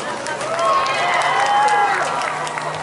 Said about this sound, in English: Now let's hear a round of applause for yourselves